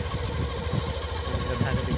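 Motorcycle engine idling steadily and close while riders sit on the bike on a rough village road, a continuous low rumble throughout.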